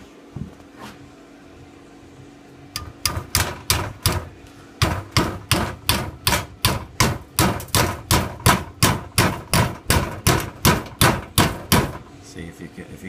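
Metal pieces being hammered onto a mini bike expansion chamber, about two dozen sharp, ringing blows struck in a steady, evenly spaced rhythm, close and loud, after a few quieter knocks at the start.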